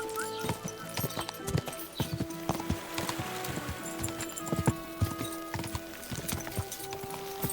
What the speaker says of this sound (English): Oh my, what a beautiful horse.